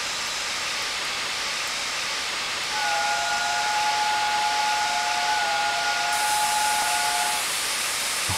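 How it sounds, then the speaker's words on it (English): Steam whistle of the Flying Scotsman locomotive in its wartime condition, a steady two-tone blast sounding for about five seconds over a constant loud hiss of escaping steam, close by and with no talk. "Oh, I love that whistle."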